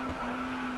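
Race car tires skid with a steady, sustained squeal during a crash in the GRID Autosport racing game, close and brief, with engine noise underneath and no talking.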